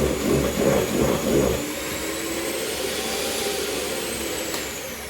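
An electric whisk whirs steadily through cake batter in a home kitchen, a close, continuous motor hum with a rougher pulsing stretch at the start before settling into an even drone.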